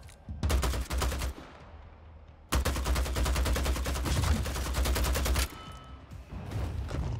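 Gunfire from the vampire battle royale game Vampire: The Masquerade – Bloodhunt: two long bursts of rapid automatic shots, loud and dense, with a brief gap between them and a trailing tail of scattered fire.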